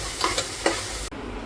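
Onion sautéing in a pan over a high flame, a loud close sizzle with a few scraping stirs of a spatula, cutting off sharply near the end.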